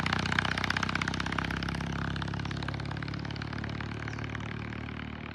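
A Norton motorcycle engine runs steadily on a test ride, a continuous rumbling drone with rapid clattering firing pulses, fairly close and gradually easing off, without any talking.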